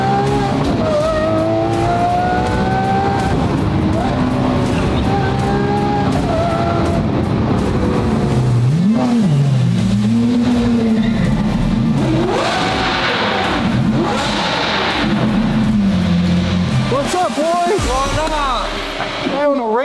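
A Lamborghini Super Trofeo Street Evo race car drives with a loud engine that rises and falls through revs and gear changes, with tire noise mixed in, heard close and continuous.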